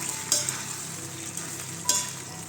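Fried cauliflower being stirred in a cast iron pan for restaurant-style Gobi Manchurian, a steady frying sizzle with a few distinct scraping strokes of the spoon, close and unaccompanied by talk.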